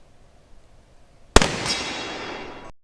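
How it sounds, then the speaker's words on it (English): A single sharp, very loud shot from a .375 H&H Magnum elephant rifle fired with its muzzle brake removed, then a ringing decay lasting over a second that cuts off abruptly, after near silence. "I've never shot a rifle this big, so as you can see, I had the muzzle brake removed so I can feel the full recoil"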